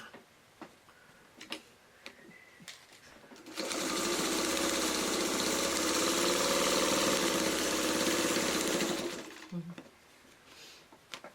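Sewing machine stitching in the ditch while quilting a fabric pot holder, a loud steady whirring run of about six seconds with soft clicks and handling noises before and after.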